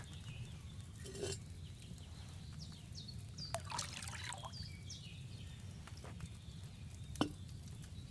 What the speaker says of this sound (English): So, what did you pour in there? Water.